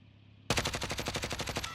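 A rapid automatic burst of gunshots in Warzone, about a dozen evenly spaced, loud close shots rattling off in quick succession.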